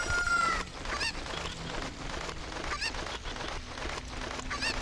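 Game chicken in The Legend of Zelda: Ocarina of Time, a brief squawk at the start followed by a steady run of honking, clucking fowl calls over a busy background, with no talking.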